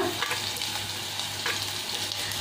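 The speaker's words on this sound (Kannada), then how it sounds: "ಈರುಳ್ಳಿ ಒಂದು 2-3 ನಿಮಿಷ ಚೆನ್ನಾಗಿ ಫ್ರೈ ಆಗಲಿ." Onions frying in hot oil for a mushroom pepper fry, a steady close hiss of sizzling with a low hum beneath and occasional light stirring sounds.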